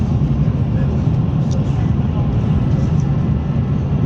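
A steady, loud rumbling hum fills the space, the constant low drone of a moving train from Milan to Florence heard from inside a carriage.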